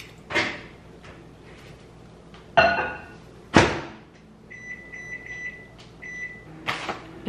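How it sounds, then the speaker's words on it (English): A microwave oven heating soup at home: a door thunks shut, sharp button beeps follow, then a low hum with intermittent tones and a few more clunks, fairly faint and close. "So I'm just gonna pop this in the microwave."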